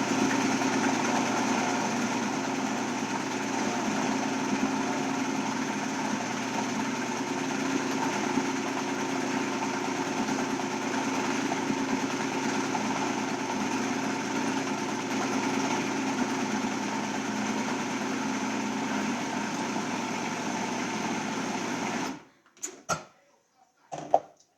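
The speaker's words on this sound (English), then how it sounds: "I'm gonna grind it more" Continuous steady motor whir of a blender grinding lentil hummus made with lemon juice, garlic and salt, running loud and unbroken for about 22 seconds before cutting off, followed by a few brief clatters.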